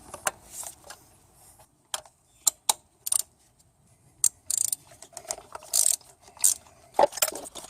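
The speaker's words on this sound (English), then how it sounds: "We're going to drop in a 16mm socket, attach it to an extension." A ratchet clicks in short bursts, turning a 16mm socket on an extension to remove spark plugs from a Toyota Camry V6 2GR-FE engine; sharp close clicks come separated by pauses, with no talk.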